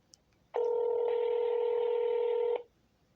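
A single touch-tone telephone dialing tone sounds clearly and loudly for about two seconds, preceded by a faint click and followed by quiet line noise.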